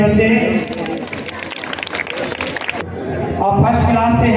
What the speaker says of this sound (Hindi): तालियां बजाइए सभी बच्चे